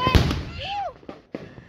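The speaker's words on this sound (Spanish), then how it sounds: "Acaban de reventar un morterote ahí." A loud large firework mortar boom up front at a Christmas celebration in Honduras, followed by a few scattered distant pops, with a brief voice-like whistling tone in between.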